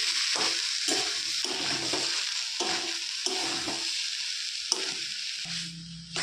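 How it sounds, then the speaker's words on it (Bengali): Vegetables are stirred in a pan on the stove, with a constant close sizzle and repeated scraping stir strokes at an uneven rhythm and no voices. "মাঝে মাঝে ঢাকা খুলে নাড়াচাড়া করে দিতে হবে যাতে নিচে লেগে না যায়।"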